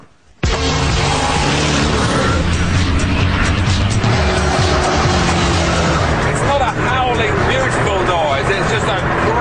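A Gumpert Apollo supercar with a 4.2-litre Audi V8 bursts into a loud, sustained acceleration, the engine roaring and rising close by while someone talks over it.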